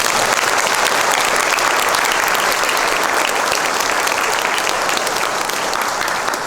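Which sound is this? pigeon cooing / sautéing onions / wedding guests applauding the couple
wedding guests applauding the couple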